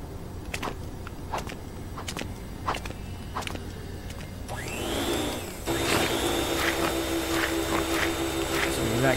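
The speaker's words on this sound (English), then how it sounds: "So we vacuum all this fun stuff up." A continuous whirring suction hum from the vacuum tool in the Lego Batman game starts midway and runs to the end, over earlier light footsteps and clicking game effects, with a voice talking.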